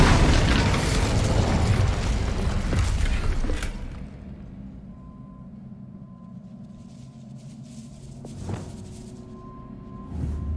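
Bombarda and Confringo spell explosions in Hogwarts Legacy burst with a loud boom and rumbling crackle that fades into a quieter lingering tail, with a smaller pop near the end.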